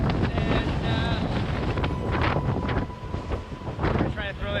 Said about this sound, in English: Winds are now reaching gusts of over 40 miles an hour.